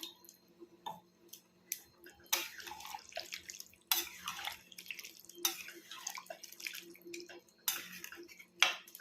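Water poured from a glass into a pot of cooking poi greens in a home kitchen, heard as several separate splashing pours with pauses between them, moderately close and alone.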